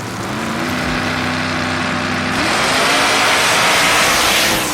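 A Mustang and a 1957 Chevy drag race, their engines roaring loudly and continuously, one revving with a steady drone that shifts up in pitch midway as the cars accelerate hard down the strip.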